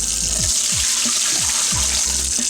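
Strike water runs steadily from a tap into a brewing pot for all-grain beer, a loud, close, continuous gush with a faint rhythmic bubbling underneath and no talk.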